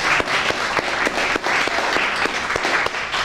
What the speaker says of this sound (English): give a brother a great round of applause